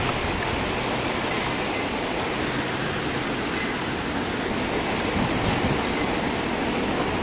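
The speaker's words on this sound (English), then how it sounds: "Look how the water pushing the boats around." Water surges against big walls and shoves moored boats around, a loud, dense, unbroken roar of churning water that fills the whole stretch without pause.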